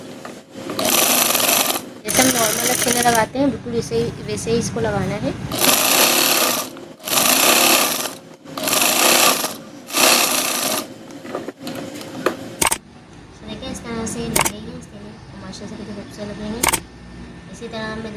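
An electric sewing machine stitches umbrella sleeves in bursts, its rapid mechanical whirring starting and stopping repeatedly, close and loud, with someone talking between and over the runs.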